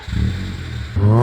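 A Toyota AE86 Corolla fitted with a Jan Speed modified exhaust revs up close by, a throaty low engine note that holds steady and then rises sharply near the end.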